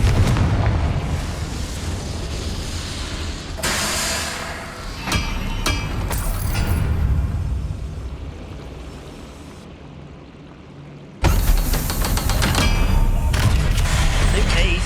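Confringo blasting spells explode during a duel in the Hogwarts Legacy video game, with loud booming bursts that come several seconds apart over continuous combat rumble, the last blast sudden and strong.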